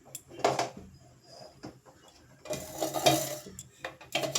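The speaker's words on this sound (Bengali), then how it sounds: "কড়াই বসিয়ে দিয়েছি।" A wok clanks down onto a kitchen stove in a sweet potato chips recipe, giving a couple of sharp metallic knocks and scrapes close by, with brief gaps between them.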